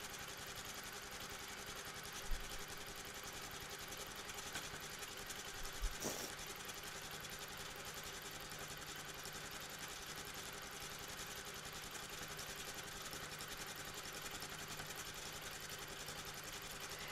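A sewing machine micro stippling a quilt gives a faint, steady, rapid mechanical hum with a couple of small clicks and no talk.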